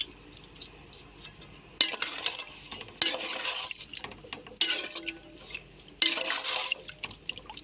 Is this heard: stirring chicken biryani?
yes